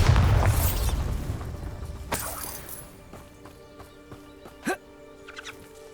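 A Bombarda spell blast in Hogwarts Legacy: a loud, booming explosion right at the start that rumbles and decays, followed by a few smaller pops and faint magical ringing.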